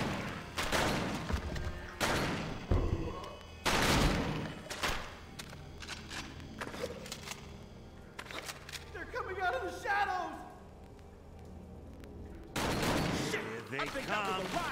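Rapid gunfire bursts from the on-rails shooter House of the Dead: Overkill on the Wii, loud and broadband, mixed with game sound effects and overlapping character voices.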